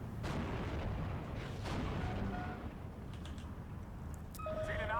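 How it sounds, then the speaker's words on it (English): Mortar fire in the Steel Division 2 World War II strategy game, striking an anti-tank gun position: a dense, continuous rumble of booming blasts mixed with creaking mechanical noise, loud and sustained throughout. "One of our PaK-40s is destroyed by mortar fire"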